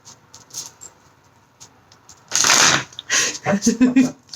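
Cards are shuffled in a quick riffling burst, followed by a few shorter shuffles and taps, with quiet room noise before.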